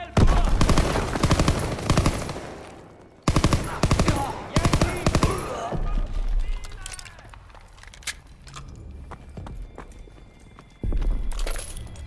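Bursts of gunfire from the Call of Duty WWII campaign, set in World War II, come in loud, dense volleys separated by quieter stretches, with game voices and background action in between.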